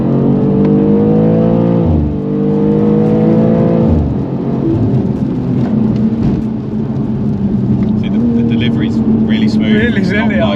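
A tuned BMW G87 M2 with about 100 extra horsepower on the road, heard from inside as a loud engine note rising twice through the gears, then settling into a steady droning cruise.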